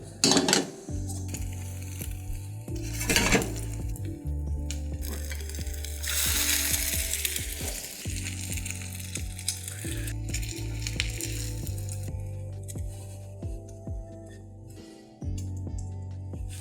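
French toast sizzling and frying in a pan, a steady close crackle with clinks and scrapes of a utensil against the pan.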